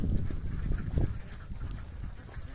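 A large flock of ducks raised the traditional way on a remote countryside duck farm, a dense, close chorus of overlapping quacks and honks that carries on without a break.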